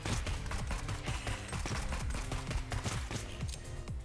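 Rapid gunfire in the video game Neon Abyss, a dense stream of quick shots rattling nonstop at a steady, loud level with no voice over it.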